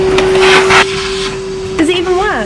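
Vacuum cleaner sucking rat droppings and debris out of a 1969 Ford Mustang engine, a steady close motor whine running the whole time while people talk over it.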